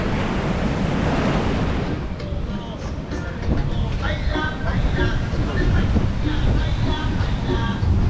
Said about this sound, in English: Just checking out the surf.